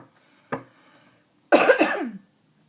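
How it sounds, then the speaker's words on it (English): Two coughs: a short single one, then a harsher, longer bout a second later, close and fairly loud in a quiet room. "I've been coughing like crazy"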